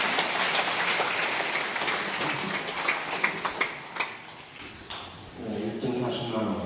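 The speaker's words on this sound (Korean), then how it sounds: "다시 한번 새해 복 구역장님께 큰 박수 부탁드리겠습니다" Applause fills the room at a bowling tournament award ceremony, a steady wash of clapping that thins toward the end, with a voice speaking over it near the close.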